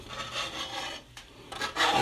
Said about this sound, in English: scrape off as much of that right now that it's hot